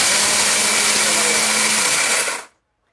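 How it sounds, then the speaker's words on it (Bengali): A powerful mixer grinder whirs steadily as it grinds gram flour, a loud continuous motor drone that cuts off abruptly near the end and leaves silence. "এইভাবে ব্লেন্ডার দিবেন না, 15 সেকেন্ড অন অফ করে চালাবেন"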